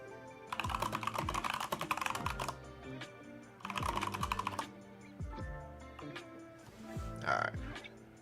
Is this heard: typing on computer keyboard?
yes